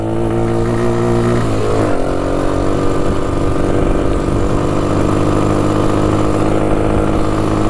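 A Honda XR100 dirt bike engine running on half choke, a loud close steady drone whose pitch drops early and then settles into a rough, uneven idle that lasts throughout, with no talking.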